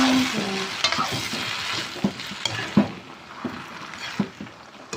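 Pad see ew noodles are stir-fried in a pan over a continuous sizzle, with repeated spatula scrapes and clacks. The stirring strokes come at an uneven rhythm, close up and with no talking.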